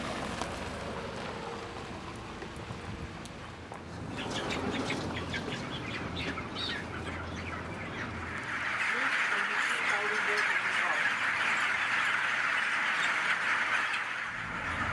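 A dense chorus of about 200,000 chickens fills a large poultry shed in Melaka, Malaysia, with steady evaporative-cooling fan hum growing louder midway and a voice speaking over it.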